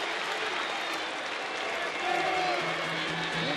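A baseball crowd at a Mariners–Rangers game in Texas keeps up steady applause and cheering, with a rising swell of voices, heard at a distance as a broad continuous roar.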